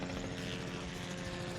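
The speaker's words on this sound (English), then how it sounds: "the helicopters always like to come out when we're recording" Helicopter flying overhead outdoors, a steady broadband rotor and engine drone holding at moderate level throughout with no pauses or talk.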